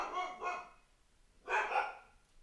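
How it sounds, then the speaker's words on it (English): Dogs barking in two short bursts, a pair of barks near the start and another pair a second later, fairly close and loud with no talk over them. "Oh, dogs are going crazy."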